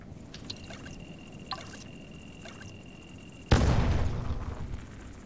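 Explosion in the video game Dome Keeper: a few faint clicks and beeps, then a sudden loud boom that rumbles and decays over a couple of seconds.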